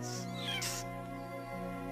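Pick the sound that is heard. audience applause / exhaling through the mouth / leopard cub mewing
leopard cub mewing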